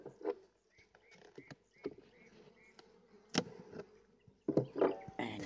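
Honey bees around an open hive in Ireland, with a light scattered buzzing and brief passes of single insects near the microphone, plus soft taps and rustles of hive handling, all fairly quiet.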